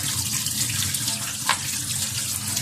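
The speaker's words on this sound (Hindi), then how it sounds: "अब इसको मैं पानी गिराने लगी हूँ, धो के अच्छी तरह साफ हो जाएगा।" Tap water runs and splashes over mutton pieces being washed in a vessel, a steady close gurgling stream with a brief louder splash midway.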